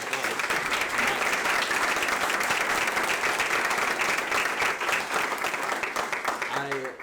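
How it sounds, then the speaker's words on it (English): A final round of applause for the candidates at an inclusive community forum fills the space with dense, steady clapping from a crowd, loud and continuous before tapering at the end, with a voice faintly heard. "let's give them last round of applause"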